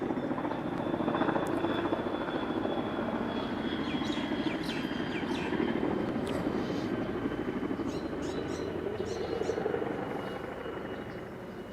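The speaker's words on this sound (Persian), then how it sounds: "یک لحظه صبر میکنیم که هلیکوپتر بگذره" A helicopter passes overhead during an outdoor press conference in Afghanistan, its loud, steady rotor and engine roar filling the whole clip and easing slightly toward the end, with faint bird chirps above it.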